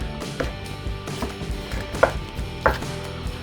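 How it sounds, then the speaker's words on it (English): A knife works through a whole raw chicken, separating leg and thigh from the body while quartering it for a smoker, giving a few soft cuts and two sharper snaps or cracks close by, with no talk. "take your knife and get in here and work and remove the rest of this from the body"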